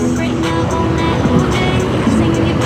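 Big bike motorcycle exhaust on a street in Parañaque, a continuous throaty engine rumble with small throttle swells, heard up close with traffic around it.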